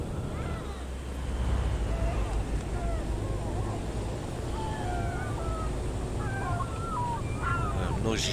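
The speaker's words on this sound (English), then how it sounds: "Noisy seagulls are back." Seagulls call in Euro Truck Simulator 2 with Promods, set in Iceland. Several short gull cries are scattered through the clip over a steady, low truck-engine hum.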